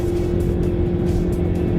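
A car passes close by on the road with a brief, steady engine and tyre roar, heard alone without speech.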